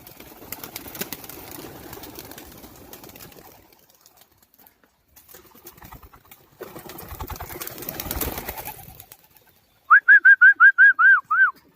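Rustling and shuffling noises, then near the end a pigeon coos clearly several times in a quick rhythmic series, close and fairly loud.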